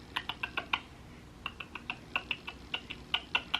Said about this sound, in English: I don't know why I'm doing that clicking noise with my tongue.